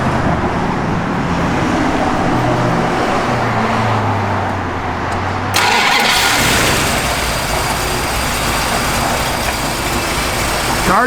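A 1970 Plymouth Barracuda with a mildly upgraded cam cranks and starts halfway through, then settles into a steady, loud, close running note, with low engine rumble before the start.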